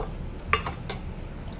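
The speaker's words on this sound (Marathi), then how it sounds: "अशी आपली भेंडी कापून घ्यायची आहे।" Okra being sliced on a board with a knife, a couple of crisp, close cutting clicks and taps against a quiet background.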